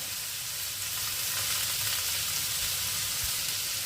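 Green chillies sizzle in a hot pan while chicken fried rice is cooked, a steady, dense, close frying hiss with faint stirring scrapes, continuous and alone.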